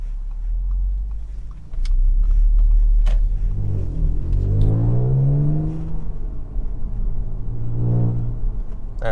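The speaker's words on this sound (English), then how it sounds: "It's like this car has a straight piped exhaust," Audi S5 Sportback V6T Stage 2 engine and exhaust rumbling, heard from inside as the car accelerates through rising and shifting gears, a deep steady growl with a second pull near the end.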